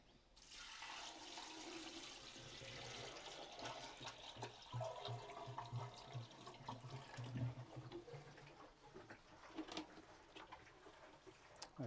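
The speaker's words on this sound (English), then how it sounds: "So I've just got a bucket of water." Water poured from a bucket into a pool pump to prime it, a steady close splashing gush lasting several seconds that gurgles and tapers toward the end, with no voices.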